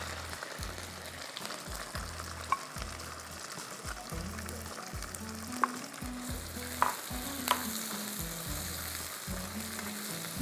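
Sliced onion and chopped ginger fry in a pan, with a continuous close sizzle broken by rhythmic scraping from a stirring spoon and a few sharp clinks against the metal.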